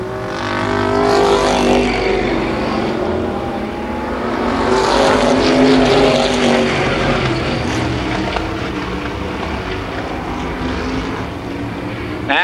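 A pack of IMCA Modified race cars at Columbus Motor Speedway in 1993 thunders past in a continuous loud roar, engine tones swelling and fading as cars lap close by, with no talking.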